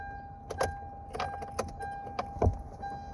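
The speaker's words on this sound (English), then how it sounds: "I'm really gonna need to start the car." Keys jangle and click in the ignition of a used car, several short metallic rattles spaced across the moment over a steady electronic tone, with no engine firing up and no talking.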